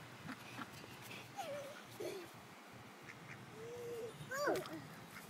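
Several scattered duck quacks rise over a noisy outdoor background at Quail Lakes, with voices faintly in the mix.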